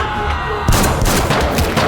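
A dense burst of gunshots in a film scene cracks loudly and rapidly, layered over a noisy, reverberant background with a sudden jump in intensity partway through.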